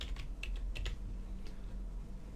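Quiet clicks of a computer keyboard as copy, paste and enter are pressed, a few scattered keystrokes spaced out over a low background hum.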